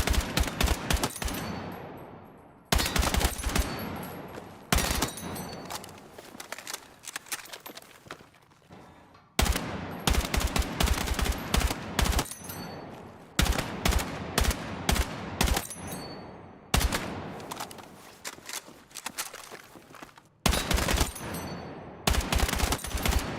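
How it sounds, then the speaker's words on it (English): Short, punchy bursts of automatic gunfire in Battlefield 6 recur in a steady pattern of two- and three-round groups, loud and close, separated by brief pauses with faint ambient noise between them. "Watch how much more accurate it is when you do 2 or 3 bullets."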